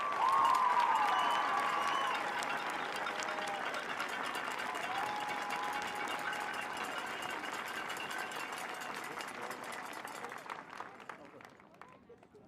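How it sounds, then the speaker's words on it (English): Crowd applauding at a Canada Games women's baseball game, a dense, steady wash of clapping and cheering from the stands that holds for most of the stretch before fading out at the end. "Let's give a huge round of applause to Jada Lee."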